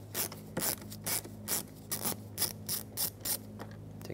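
A Phillips head screw behind the door handle trim of a 2014-2021 Mazda 6 is backed out with a ratcheting driver, giving about ten evenly spaced, close-up clicks and rasps over a low hum, with no talking.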